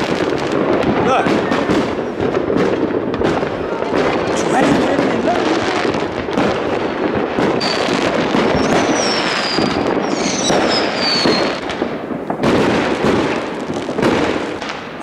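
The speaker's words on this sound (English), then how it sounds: "All this firing rockets and noise making me Big Bang" New Year fireworks and rockets burst in a dense, continuous barrage of crackles and bangs, with a few whistling rockets climbing midway, while people chatter and cheer underneath.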